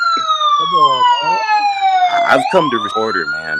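Police siren wailing in falling and rising sweeps, loud and close, while someone talks over it.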